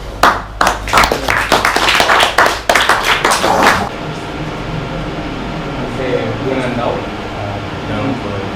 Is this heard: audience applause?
yes